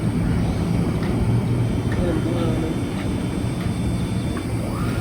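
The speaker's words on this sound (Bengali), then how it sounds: "এখন ড্রোন চালু হচ্ছে" A DJI Air 3 drone powers up and flies outdoors, its steady broadband whir holding loud and constant throughout, with a low engine-like rumble and faint tonal whine on top.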